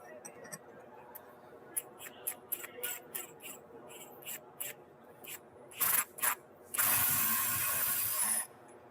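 Socket wrench ratcheting on a car wheel hub nut during a bearing replacement, bursts of quick metallic clicking followed by a longer sustained harsh ratchet run, close and fairly loud.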